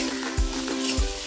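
Lentils and green chillies are stirred and fried in a pan, producing a steady hiss with two dull thumps of the spoon against the pan.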